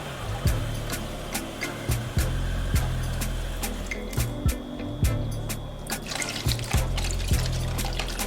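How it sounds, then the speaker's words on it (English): Water is poured into a bowl and mixed by hand while preparing Jamaican steamed fish, with trickling liquid and regular clinking knocks of a utensil against the bowl, close and clear. "Add some more water to it."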